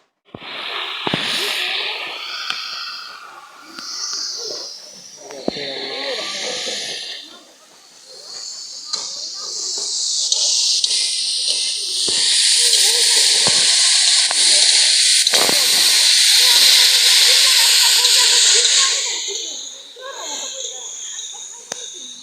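Steady steam hiss from dal cooking on a stove outdoors in strong sun, building loud and continuous through the middle of the clip, with speech heard around it.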